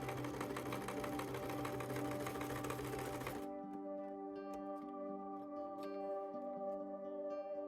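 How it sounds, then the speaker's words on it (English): Sewing machine stitching close up at a steady rapid rhythmic whir for about three seconds, then stopping abruptly and leaving quieter background sound. "Sewing machines are expensive."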